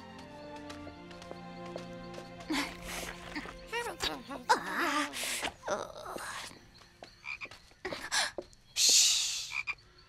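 Frog croaks sound in a French cartoon, sharp repeated calls mixed with galloping hooves and a whinny, over music and character voices.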